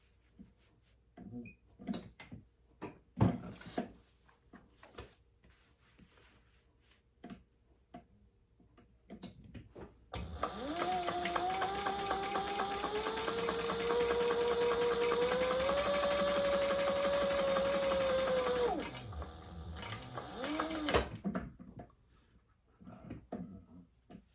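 A sewing machine stitches a row of stitches across the top of a leather architect wallet, a steady mechanical whir with a rising tone running about eight seconds in the middle, preceded and followed by quiet handling clicks and ticks.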